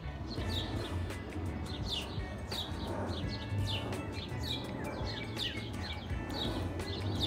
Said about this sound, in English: I think it's a cardinal. Maybe it's a robin.